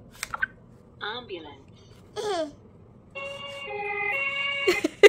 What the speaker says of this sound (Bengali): অ্যাম্বুলেন্সের শব্দে কেউ নাচে